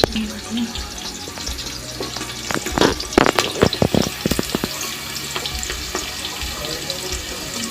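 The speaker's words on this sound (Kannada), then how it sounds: "ಈಗ ಈರುಳ್ಳಿ ಸ್ವಲ್ಪ ಬ್ರೌನ್ ಆಗೋವರೆಗೂ ಹುರ್ಕೊಳ್ಳೋಣ" Onions frying in a pan until browned for a vegetable pulao, a continuous close sizzle broken by a burst of spatula scrapes and clatters midway, then settling back into steady frying.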